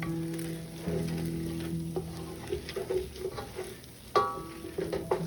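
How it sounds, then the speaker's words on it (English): A spoon stirs arroz con dulce, a sweet coconut rice pudding, in a pot, giving soft scraping strokes over a low simmering sizzle, close by and with no voices. "We're gonna stir this."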